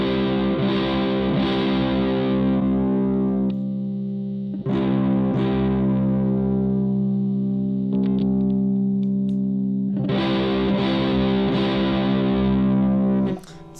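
Distorted electric guitar with a 3300 picofarad treble bleed capacitor, loud sustained chords struck three times and left ringing with chorus-like shimmer, no voices.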